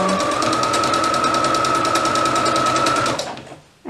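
A sewing machine stitches fabric for a toddler's elastic-waist dress in a fast, even mechanical rattle. The run is loud and close and stops abruptly near the end.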